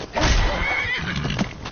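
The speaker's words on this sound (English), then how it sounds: "The horse is going wild." A horse in a video game neighs loudly, a drawn-out whinny lasting over a second and mixed with faint game sounds.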